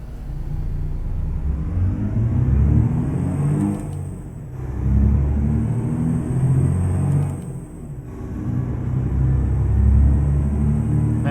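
An International 9800 cab-over truck in American Truck Simulator accelerates with a loud, steady engine rumble. The roar dips briefly twice, like gear changes, then builds again, heard alone without talk.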